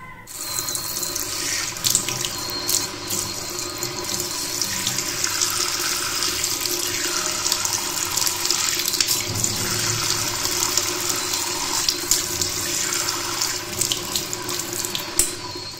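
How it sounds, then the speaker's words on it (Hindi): Hot water gushes steadily from an instant electric tap-mounted water heater, a close, continuous splashing stream into a sink with no voices over it. "आप गौर कीजिए कि किस कदर मज़ेदार गर्मा गर्म पानी आ रहा है"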